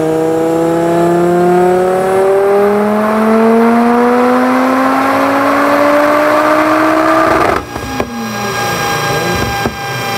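A turbocharged 5-cylinder 20V engine in an Audi 80 Quattro Typ 85 revs up in one long, loud, rising pull and then drops off abruptly into a lower, rougher idle with pops. Close by, with no voices.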